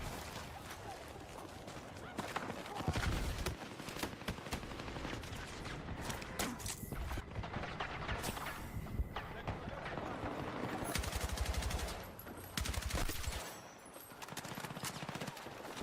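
Carbine gunfire in the game Battlefield 6, with loud, rapid bursts of shots and dense, crackling volleys that go on almost without pause, mixed with other game effects and brief gaps.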